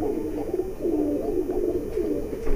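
Pigeons at a pigeon dealer in Bhopal, soft low repeated cooing close by over a steady background, no talking.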